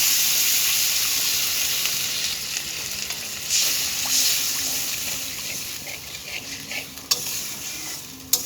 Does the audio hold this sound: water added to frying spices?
yes